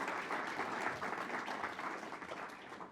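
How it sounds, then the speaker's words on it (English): Applause from an audience at a university pitch competition, a soft but steady patter of many hands clapping with no voices over it. "Round of applause of Rachel"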